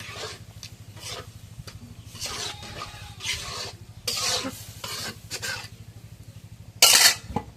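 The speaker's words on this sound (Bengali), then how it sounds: "এখন কালা সিদ্ধটা দিয়ে দিই এখন নাড়া দিই" A spoon stirs a boiled ingredient into fried spice paste in a pot, making repeated rasping scrapes against the metal over a low steady hum. A sharper clatter comes near the end.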